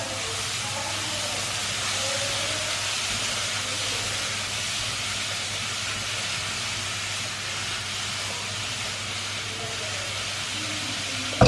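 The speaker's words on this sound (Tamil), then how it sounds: "இந்த வெஜிடபிள்ஸ் அவ்வளோத்தையும் போட்டு நல்ல ஒரு பச்சை வாடை போகிற வரைக்கும் வதக்கி எடுத்துட போகிறோம்" Finely chopped vegetables sautéing in hot oil give a steady, dense hiss that stays nearly constant throughout, close and fairly loud, with no distinct stirring strokes and no talking.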